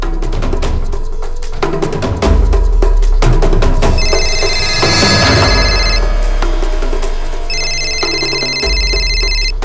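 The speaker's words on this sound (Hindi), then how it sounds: "किसका फोन है?" A telephone rings in a tense Crime Patrol crime-drama scene, two bursts of electronic ringing rising over loud, dense dramatic music and rumbling low sound.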